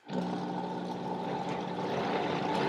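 A blender blending a green smoothie roars to life and runs steadily, a loud continuous whirring that starts abruptly and holds.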